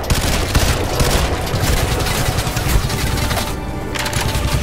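Sustained automatic gunfire in the video game Crysis 2 rattles loudly and continuously, with dense rapid bursts and a brief dip partway through.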